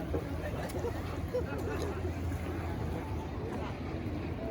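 A ferry boat motoring on Lake Tahoe, its steady low engine rumble and water wash running continuously at close range with wind noise, and no clear talk over it.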